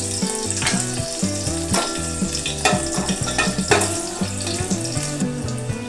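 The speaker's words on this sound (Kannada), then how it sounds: "ಸಾಸಿವೆ ಚಟ ಅಂದವು. ಅದಕ್ಕೆ ಒಂದು ಹಸಿಮೆಣ್ಸಿನ್ಕಾಯಿ ಹಾಕೀವಿ." Mustard seeds and a green chili crackle and sizzle in hot oil for a millet rice and groundnut gravy, a steady close spitting under continuous background music.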